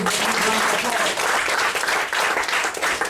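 Sustained applause from a seminar audience at a hypnosis and persuasion show, dense and steady clapping filling the room at close range.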